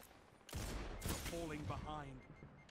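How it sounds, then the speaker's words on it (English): Machine gun fire bursts out in the online shooter Destiny, with a sharp burst of shots followed by more rapid fire and tonal game sounds, all fairly quiet. "Oh, he had a machine gun, I think."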